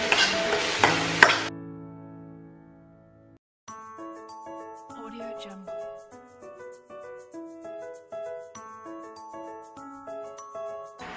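Garlic and onion sauté in a pan with a loud, close sizzle for about a second and a half, then it cuts away to a melodic tune that fills the rest.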